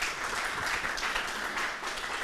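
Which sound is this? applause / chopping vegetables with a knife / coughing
applause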